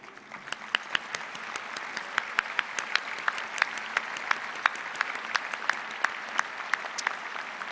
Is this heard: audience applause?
yes